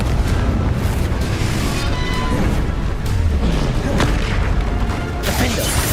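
Confringo, an explosive spell cast in the video game Hogwarts Legacy, bursts in loud booming blasts over a dense, continuous wash of combat noise and game effects.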